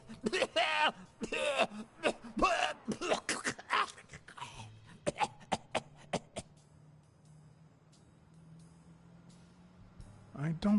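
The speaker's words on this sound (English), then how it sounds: "You've got one nasty cough." A goat coughs in a series of rough, hacking bursts up close, loud and uneven, with a brief humming tone and quiet pauses afterward.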